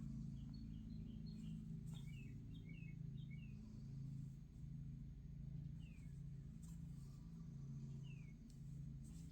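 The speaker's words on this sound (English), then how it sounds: "There's a bird right outside my window here. And he's just singing a song." A bird sings outside a window, faint bright chirps repeated in short clusters and then single calls, distant and soft over a steady low indoor hum.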